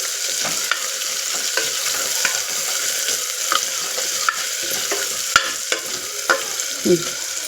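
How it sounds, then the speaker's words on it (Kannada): Chopped onions fry in a pan with a steady sizzle, while a spoon scrapes and stirs them in repeated short strokes and clicks, close and clear. "ಒಂದು ಸ್ವಲ್ಪ ಕಲರ್ ಬರೋ ತನಕ ಈರುಳ್ಳಿನ ಫ್ರೈ ಮಾಡ್ಕೊಳ್ಳೋಣ"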